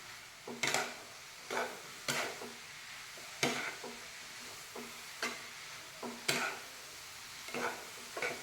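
A spoon stirs green peas gravy in a pan in about eight distinct scraping strokes, evenly spaced at a steady rhythm, close up and moderately quiet, with a faint sizzle between strokes and no talking.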